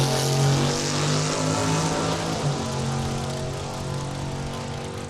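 A Chevy-powered Mustang drag car roars down the track at Saskatchewan International Raceway, a loud, steady engine drone that slowly fades as it pulls away, with no talking.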